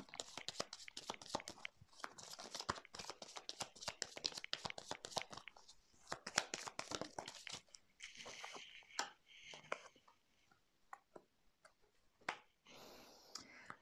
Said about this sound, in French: Je vais mettre des cartes sur ces questions-là.